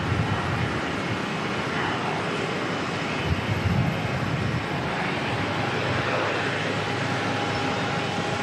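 United Airlines Boeing 777 descending to land at Auckland Airport, a steady broad jet-engine roar that stays loud and even throughout, with no voices.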